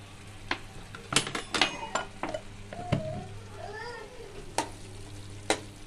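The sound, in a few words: stirring pav bhaji spices in a pan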